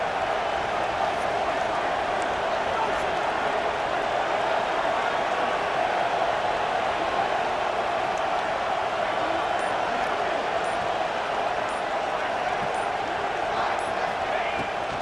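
A football stadium crowd roars in a steady, dense wall of cheering that holds at full volume throughout a big third-down play.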